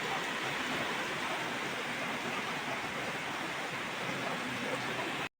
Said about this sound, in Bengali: সকাল থেকেই অনেক বৃষ্টি অনেক বৃষ্টি হচ্ছে